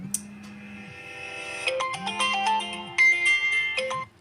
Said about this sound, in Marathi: नेमका फोन आला ना कोणाच तरी.